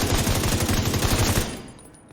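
Rapid automatic gunfire pours into a turret in The Division 2, a dense, loud, evenly pulsing burst that runs for over a second before cutting off into a fading tail.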